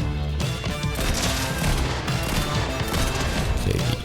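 Rapid bursts of gunfire from the Fortnite video game fill the mix, loud and continuous, with overlapping shots and no speech over them.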